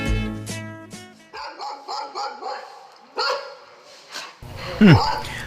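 A household dog barks in several sharp, close yaps and yips, mixed with people talking and other background sounds.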